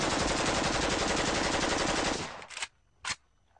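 A loud, rapid burst of AK-47 assault rifle automatic fire lasting about two seconds, followed by two short single shots with silence between.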